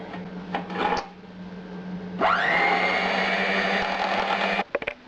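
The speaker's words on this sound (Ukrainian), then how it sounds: "Легенько їх перемішаю і буду збивати міксером" An electric hand mixer beats egg yolks with powdered sugar for a cotton cheesecake: a few clatters first, then the motor whirs up to a steady, loud whine for a couple of seconds before cutting off with small clicks.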